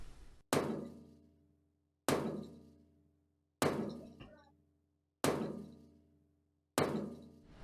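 Hammering dents out of a truck body in the Mon Bazou video game: five sharp, evenly spaced metallic knocks about 1.5 seconds apart. Each knock rings out and fades before the next.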